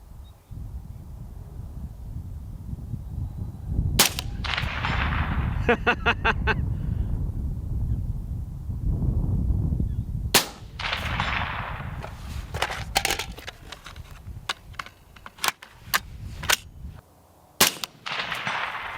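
Rifle shots fired at steel targets out to 250 yards through a 1-10x scope, sharp isolated cracks spaced irregularly among a few quick bursts, with wind noise and occasional speech between them.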